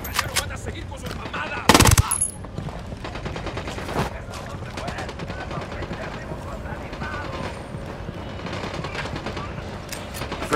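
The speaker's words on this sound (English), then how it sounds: "Opening fire." Rapid automatic gunfire in Ghost Recon Wildlands, a steady rattling stream of shots with one louder blast near the start, under a continuous hum, with voices talking over the shooting.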